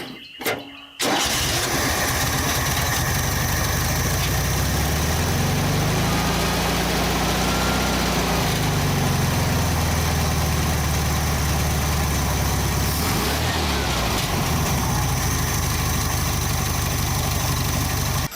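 An old Volkswagen engine, rated around 60 horsepower, cranks and catches after a short pause, then settles into a loud, steady idle with a couple of brief pitch swells as the revs shift.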